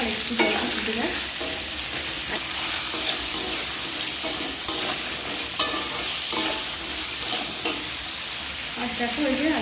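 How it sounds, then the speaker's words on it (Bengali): Water bubbles and churns in a cooking pot before rice is added, a continuous close rolling boil with scattered pops and clinks over the whole stretch. "জলটা বকরে ফুটছে, এবার চালটা তুলে দিই।"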